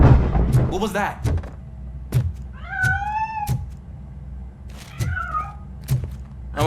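In the RoboCop: Rogue City video game, a cat gives two drawn-out meows amid dull thuds and impacts, with a voice speaking over parts of the scene.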